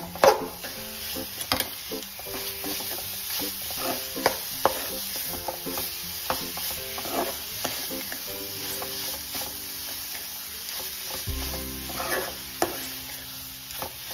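A modak filling with grated nutmeg being stirred in a pan, with repeated scraping and tapping of a spoon against the metal over a low, continuous sizzle.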